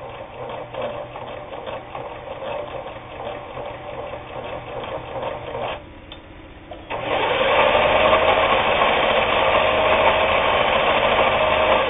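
Japanese-made Kenmore 158.19802 sewing machine, freshly cleaned, lubed and adjusted, stitching with a steady rapid mechanical whir that pauses briefly, then resumes louder and faster.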